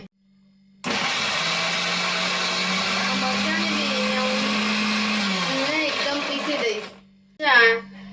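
A mixer grinder whirs loudly and steadily for about six seconds, grinding green chilies and peanuts finely for a Rajkot-style chutney, then winds down and stops, followed by a short closing burst.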